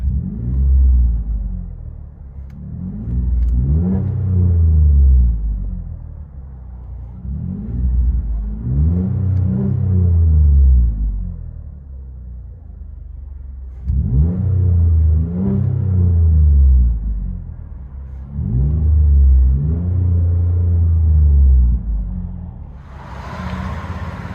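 A 2019 Chevy Colorado Z71 3.6L with a Vibrant resonator exhaust revs repeatedly in long rising and falling swells with a deep, throaty rumble, heard from inside the cab.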